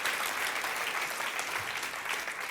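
Church congregation applauding during a sermon, a steady wash of many hands clapping, fairly soft and distant, with no speech over it.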